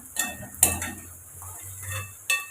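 Soya chunks are stirred in a hot pan over a steady low sizzle, with a few sharp spoon-on-pan clinks breaking through, close and without speech.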